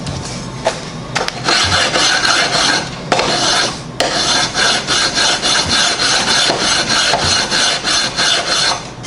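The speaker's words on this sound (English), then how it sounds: "So I'm gonna just file this down for a while, or grind it on the belt sander," Hand filing on a full-size metal training sword: a loud, close rasping scrape repeated in steady back-and-forth strokes, with short pauses between runs.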